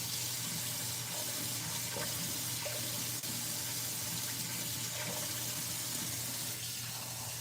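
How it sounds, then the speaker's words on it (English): Hot water runs from a kitchen sink tap in a steady, continuous hiss and splash, close and fairly quiet, with no voices over it. "So I'll get some hot water from the sink tap."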